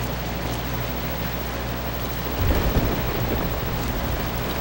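Steady rain in the video game ZombiU, with a low rumble of thunder swelling partway through, continuous and fairly loud with no speech.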